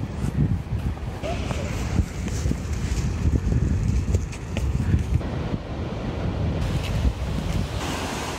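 Ocean surf rolls against the Sydney coastline on a coastal walk, a steady close roar of breaking waves mixed with gusty wind buffeting the microphone throughout.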